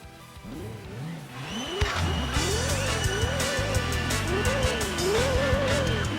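A racing car engine in the video game Gran Turismo 2 revs up and down repeatedly, rising and falling in pitch over a steady roar, loud and continuous without speech.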